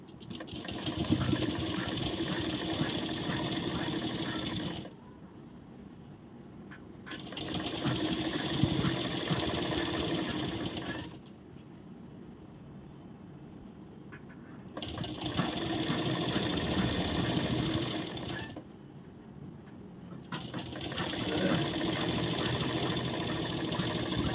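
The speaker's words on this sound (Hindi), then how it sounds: "सेम उसी तरह से हम इस पर दाब स्टिच लगाएंगे।" A sewing machine runs a top stitch along a blouse in four steady bursts of several seconds each, broken by short quiet pauses, heard close up.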